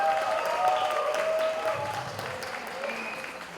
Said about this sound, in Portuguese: queria mais uma salva de palmas aí para o Leandro, que fez um grande esforço.